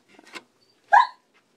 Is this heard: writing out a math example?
no